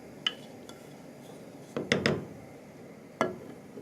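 A metal lid is set onto a stockpot (faitout) on a gas stove after the flame is turned off, giving a few sharp, close metallic clinks and clatters spread across a quiet kitchen background.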